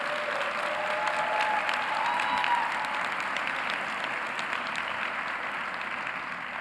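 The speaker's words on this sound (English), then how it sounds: "Give them a round of applause." A large convocation audience at a Boston University School of Education ceremony gives sustained, even applause for graduates' families, heard at a distance in a big hall.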